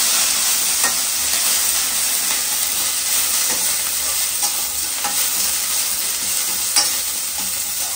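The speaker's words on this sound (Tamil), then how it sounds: "காஞ்ச மிளகாய், கொஞ்சமா கருவேப்பிலை, கொத்தமல்லி, எல்லாத்தையும் சேர்த்து நல்லா வதக்கிடலாம்" Mustard seeds, dried red chillies, curry leaves and coriander sauté in hot oil, giving a loud, dense sizzle with scattered pops and crackles and the scrape of stirring throughout.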